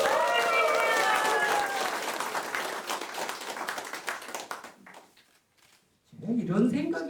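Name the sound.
audience applause for the current candidate at a press conference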